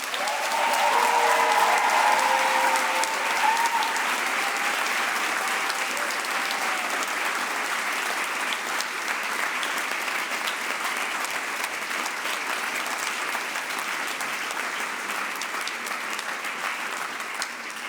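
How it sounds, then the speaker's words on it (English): Sustained applause from an indoor audience at a speakers night contest, steady and fairly loud throughout, with a brief moment of crowd noise near the start and no talking. "I would kindly ask everyone right now to give a big clap to all of the great speeches we had tonight"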